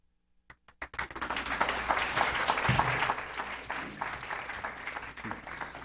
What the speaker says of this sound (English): Please, another round of applause for Gunter Gasser.